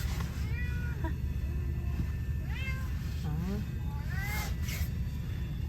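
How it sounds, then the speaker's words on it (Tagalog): A cat meows several times in rising, drawn-out calls, clear over a steady low rumble of background noise with faint voices. "Ayan, nangiwan ng pusa."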